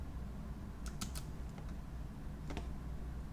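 A few faint computer keyboard key presses while working in Blender, scattered soft clicks over a steady low background hum, heard alone without talk.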